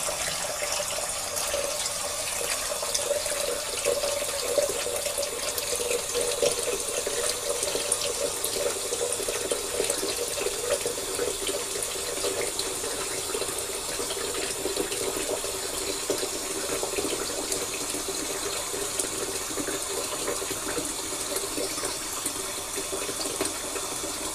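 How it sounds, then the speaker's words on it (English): Tap water runs steadily into a bathroom sink while preparing for a shave, a continuous close hiss and splash that holds an even level throughout with no voices. "Get some water in my sink."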